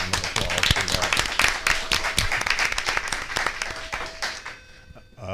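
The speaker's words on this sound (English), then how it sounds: "We'll give you a round of applause for that." Applause breaks out at a school board meeting to honor teachers and students: irregular, fairly close clapping from a modest group with some voices mixed in, fading near the end.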